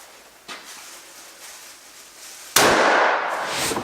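A single sharp rifle shot rings out at a 300 metre shooting range, loud and sudden after a stretch of quiet wind-like background, followed by a brief decaying tail.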